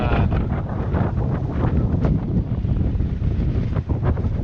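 Strong wind from squalls roars steadily across the microphone, buffeting it with gusty rumble and no voices.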